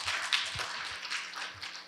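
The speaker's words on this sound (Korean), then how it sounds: "우리 박수부터 쳐드립시다." An audience at a medical lecture claps to welcome a speaker, a soft, steady patter of many hands that continues without voices.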